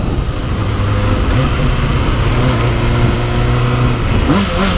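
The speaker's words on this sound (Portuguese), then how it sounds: "Então nós vamos dar uma aceleradinha aí à noite, só pra dar uma esquentada que tá meio frio." A BMW M3 accelerating on a cold night, its engine a loud, steady, close roar that holds throughout with a rising tone near the end.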